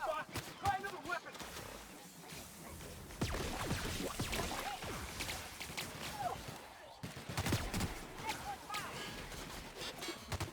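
Gunfire in The Outer Worlds video game comes as bursts of shots and rattling volleys under a busy, noisy mix, fairly faint overall, with voices speaking through it.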